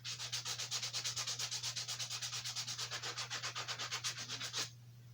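Coarse 40-grit sandpaper scrubs over a wooden carousel horse in quick, steady back-and-forth strokes that stay close and even, with a low hum running underneath, and then the strokes stop abruptly near the end.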